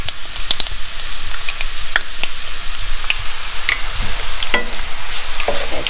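Garlic fries in hot oil for satay chili oil, a loud, continuous close sizzle with scattered crackles and pops and a few stirring scrapes, and no voices.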